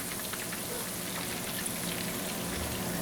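Venison fat melting and frying in oil in a pan, giving a steady, close hiss and crackle that stays even and continuous throughout, with no voices.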